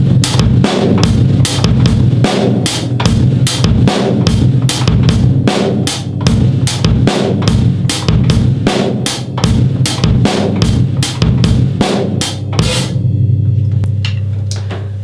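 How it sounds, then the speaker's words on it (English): A drum kit plays a steady groove of continuous hi-hat over bass drum and accented snare hits, loud and close, with the cymbal wash ending abruptly near the end as a low ring sustains. "Now if I was to add the accents along to that with the snare"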